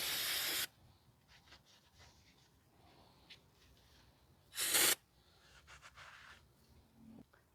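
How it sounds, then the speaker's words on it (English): Brake cleaner is sprayed on the rear brake shoes of a 2010 Subaru Outback 3.6, two short, loud hissing bursts separated by quiet rustling and handling noises. "you can spray some brake cleaner on the shoes again if you got anything on them."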